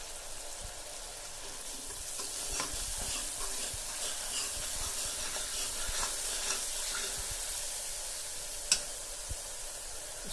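Green chillies and turmeric sizzling in a pan for an aloo gravy, with a steady frying hiss and soft intermittent scrapes of stirring, plus one sharper clink near the end.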